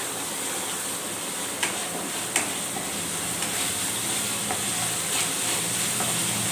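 Grated coconut and ginger frying in a pan for an Andhra-style curry, a steady close sizzle with a few sharp ticks of the spatula stirring, and no voice over it.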